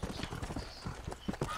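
Horse hooves clip-clop in the video game Red Dead Redemption multiplayer, a thin horse being ridden, giving a quick steady run of close, fairly soft hoof beats.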